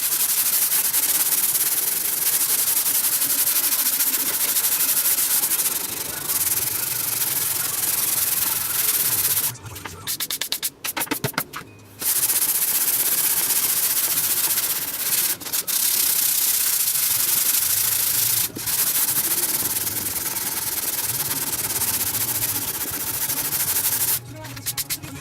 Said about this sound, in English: we're just gonna get the rest of this sanded off